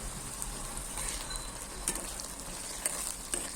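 Masala of turmeric, onion-garlic spice mix and red chili powder frying in a pan for a bitter gourd bhaji, giving a steady close sizzling hiss with a few soft stirring clicks.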